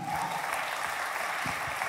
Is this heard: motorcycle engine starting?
no